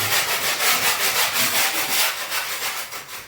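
Walls being sanded by hand before painting, a steady rhythmic rubbing and scraping with repeated strokes, close and loud, with no voices.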